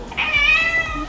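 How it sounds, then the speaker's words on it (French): A house cat meows once, a clear, fairly close drawn-out cry standing out over a low indoor background. "mon chat il miaule"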